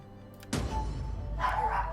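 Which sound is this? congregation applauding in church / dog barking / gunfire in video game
dog barking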